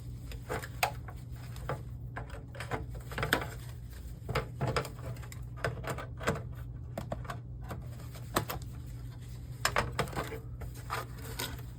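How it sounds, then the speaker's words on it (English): Cables are being cut during a teardown of a Compaq LCD monitor, heard as a string of sharp, close snips and clicks with small handling knocks, irregularly spaced over a low steady hum. "I want to cut the cables."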